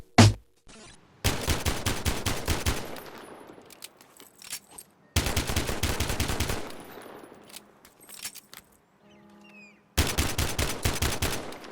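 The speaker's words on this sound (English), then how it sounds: "The version featured in Battlefield Hardline is the slightly updated M1911A1, but both handle pretty similar and both can be equipped with a suppressor." An M1911A1 pistol in Battlefield Hardline fires in three quick volleys of sharp, closely spaced shots, each followed by a fading tail and brief mechanical clicks.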